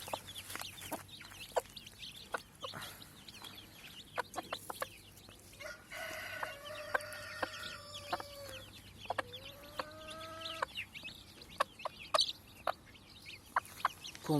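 Several mother hens cluck and chatter nearby in a quiet outdoor setting, with sharp pecking or tapping sounds scattered throughout as they eat feed.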